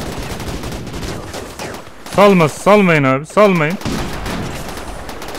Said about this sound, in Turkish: Arkasından sık, birbirinizi vurmayın.